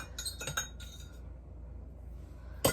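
A Pampered Chef whisk and other kitchen utensils clink faintly as they are put away, a few light metallic taps early on, then quiet, then one sharper clink at the end.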